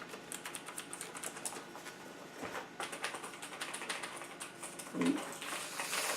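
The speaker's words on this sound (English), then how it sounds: "This is a mechanical keyboard, so I'm expecting great things." A mechanical keyboard is being typed on in a steady run of close, clicky keystrokes, with faint background sounds and no clear talking.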